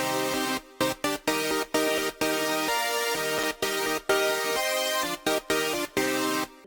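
Layered, unprocessed synth chords from Sylenth1, Serum and Spire play a rhythmic, choppy chord pattern with short gaps between stabs. Bright and full, alone with no talk.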